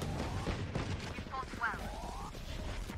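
Gunshots in the video game Valorant crack in quick bursts amid a noisy firefight, with a voice talking over the action.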